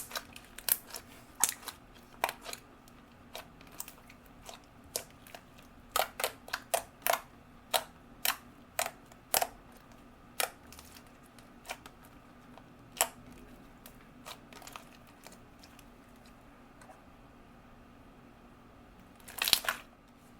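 Stretchy, clicky strawberry-scented slime being squeezed and stretched close up, a string of sharp crisp clicks and pops coming in irregular bursts over a quiet background, with a louder cluster near the end.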